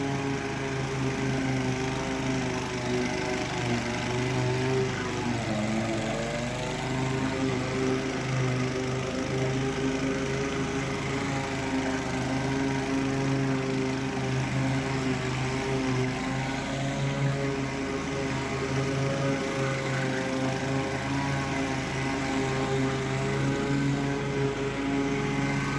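A Toro Timemaster 30-inch lawn mower mows continuously, its engine giving a steady, loud droning hum with slight pitch wavers, close up and alone throughout.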